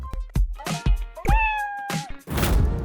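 Cartoonish cat meows from the video game Dave the Diver, several short cute mews in a row with a longer drawn-out meow in the middle, close and clear, over game effects and no talking.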